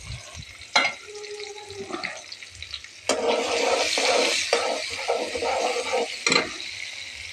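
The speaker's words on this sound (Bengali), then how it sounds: "পেঁয়াজটা ভাজা হয়ে গেছে" Chopped onion, garlic and green chilies hit hot oil with a loud hissing rush that settles into a bubbling fry, broken by a few sharp bursts and clatters, with no voices over it.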